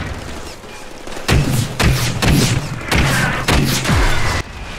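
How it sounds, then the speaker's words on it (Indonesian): Missile explosions in a Deadpool video game, a series of about six heavy booming thuds at irregular intervals, each a loud low blast over a busy game soundtrack. "Setelah muncul ledakan misil"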